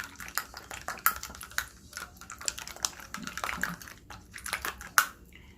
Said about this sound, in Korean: 넣고 또 잘 섞어주세요